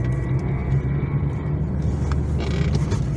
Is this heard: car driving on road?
yes